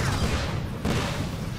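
Explosions in the video game Atlas Reactor, a dense, loud rumbling roar of blasts that fills the whole moment, two overlapping bursts with no gap between them.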